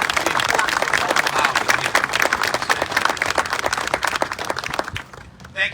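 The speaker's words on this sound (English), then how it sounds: "Let's give Superintendent Dr. Jeff Craig and the 129 School Board a round of applause" A crowd at an outdoor school ribbon-cutting in Aurora, Illinois, gives the superintendent and school board a loud, dense round of applause that tapers off toward the end.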